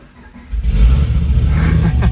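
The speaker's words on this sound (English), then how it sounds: "I want to hear this car start up" A 2012 Chevrolet Camaro ZL1 with a supercharged 6.2L LSA V8, aftermarket cam and tuned headers cranks and fires up, a loud sudden catch followed by a deep, lumpy rumbling idle heard close from inside the car.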